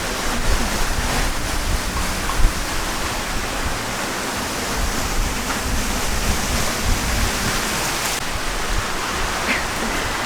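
Heavy rain pouring down in a dense, steady hiss with a few brief louder spatters, close and continuous, no talking.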